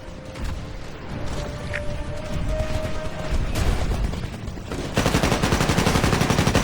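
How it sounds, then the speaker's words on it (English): Gunfire in the video game Titanfall, a dense, continuous stream of rapid shots and mechanical clatter that swells louder and heavier in the final seconds. "I hear gunfire."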